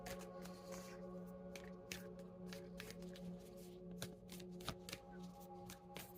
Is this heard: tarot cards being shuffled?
yes